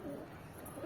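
Pigeons kept as a hobby flock, Madras breed birds, coo softly at a distance, a low steady murmur running through the short moment with no talking.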